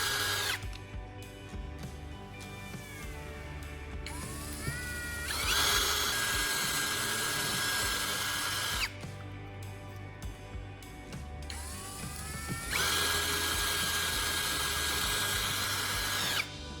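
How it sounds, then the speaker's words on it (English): A power drill whines up to speed and grinds small holes through a thin metal can in two long bursts, with short spin-ups and pauses in between, close by. "I'm using a drill to make several small holes along the creases and at the apex of the cone"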